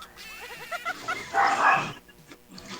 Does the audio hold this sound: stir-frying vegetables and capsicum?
no